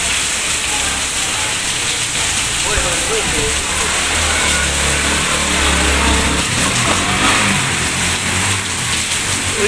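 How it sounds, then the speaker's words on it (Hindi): Dense, steady roar of heavy rain drumming on surfaces, loud and continuous throughout, with a low rumbling undertone. "इतनी तेज बारिश हो रही है"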